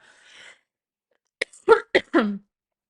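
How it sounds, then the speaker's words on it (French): A few short, sharp coughs burst out in quick succession up close, after a soft murmur and a moment of silence. "Je sais pas si je vais monter cette petite toux"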